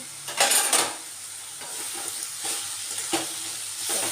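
Snake gourd with turmeric is stirred in a frying pan, with a steady sizzle broken by several scraping, clattering utensil strokes against the pan, loudest near the start and recurring every second or so.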